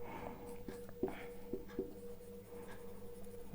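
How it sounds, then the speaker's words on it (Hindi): Pen scratching on paper while solving a Class 10 quadratic equations maths exercise: soft, intermittent strokes and taps, fairly close and quiet, over a faint steady hum with no speech. "बस इतना लिखना है, सिंस"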